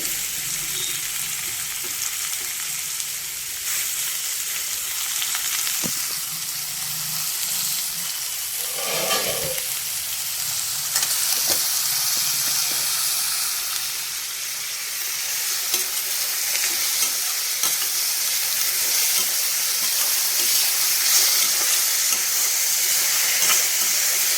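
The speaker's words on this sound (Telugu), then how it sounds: "చక్కగా ఉల్లిపాయ వేగిపోయింది" Onions and curry leaves fry in a pan with a loud, continuous bright sizzle and hiss, close by, with occasional soft stirring knocks and no voices.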